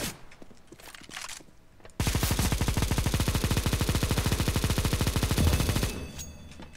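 Negev machine gun fire in a video game roars out in a long, rapid, unbroken burst of evenly spaced shots for about four seconds, loud and close, after a quieter stretch of background game noise.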